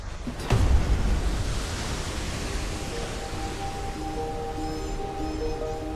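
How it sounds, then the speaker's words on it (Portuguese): Turbulent white water roars over rapids and waterfalls on a river in Uganda, a dense, continuous rushing wash with a brief thump near the start and faint tones laid over it. "Águas brancas turbulentas estrondam sobre corredeiras e cachoeiras."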